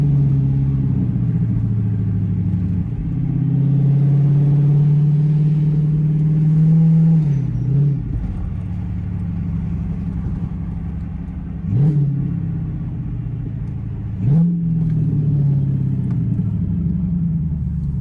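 A Dodge Charger Pursuit with an 8-speed automatic drones steadily at low revs and then downshifts three times, each one marked by a short, sharp blip of rev matching. No one speaks over the engine.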